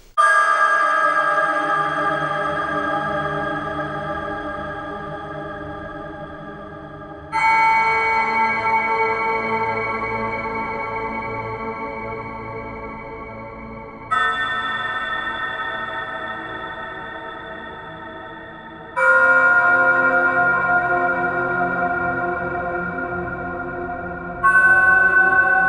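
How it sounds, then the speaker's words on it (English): A Space Bells synthesizer patch from the Soundpaint Bras Bouncing Springs library plays five sustained, shimmering bell-like chords. Each is struck cleanly and then decays slowly with a bright ringing overtone, with no talking over it. "Here's one called Space Bells."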